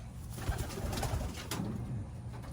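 A racing pigeon hen coos softly in a loft, with low, throaty coos repeating over a few seconds and faint background rustle.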